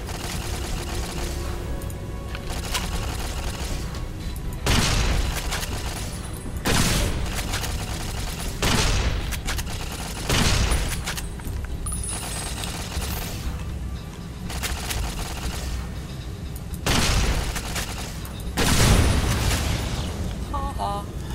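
Automated turrets firing in Fallout: New Vegas, heard as repeated loud booming bursts every couple of seconds over a constant dense roar of game noise.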